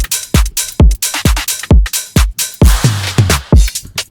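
Bass house drum pattern with punchy kicks and crisp snares or claps in a steady four-on-the-floor groove, loud and up front with no talk.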